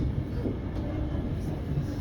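Siemens Nexas train running on rails between Melbourne Central and Essendon, heard from inside as a steady, dense rumble and rolling roar with no distinct clacks, close and continuous.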